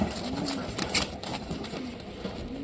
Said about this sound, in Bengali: এটা রাশিয়ার একদম ওল্ড ব্লাড লাইনের কবুতর